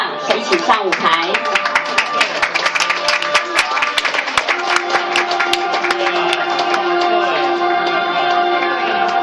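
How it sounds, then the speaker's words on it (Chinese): Wedding banquet guests applaud as both families' parents are welcomed onto the stage, a dense burst of clapping that thins into scattered claps, with a voice speaking and music underneath. "现在呢，就让我们以掌声来欢迎我们的双方家长一起上舞台"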